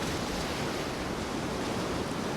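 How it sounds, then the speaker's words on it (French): Big ocean waves breaking on a beach near Puerto Viejo, a steady, loud broadband roar of surf with no distinct individual crashes. "Bien que les grosses vagues toujours présentes sont assez fortes"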